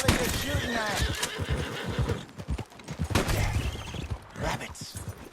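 A horse whinnies in a Red Dead Redemption 2-style western video game, a loud neigh among hoof clip-clops and scattered gunshots, with people talking over it.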